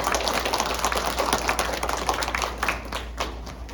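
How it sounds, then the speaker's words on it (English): An audience claps steadily for a speaker named Grandmaster Orange at a Black History Month school assembly, a dense, even spatter of many hands that carries on for the whole stretch and thins slightly near the end. "give Grandmaster Orange a round of applause"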